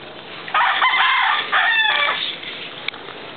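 A rooster crows loudly nearby, one long drawn-out call broken into a couple of strained segments, followed by a quieter pause.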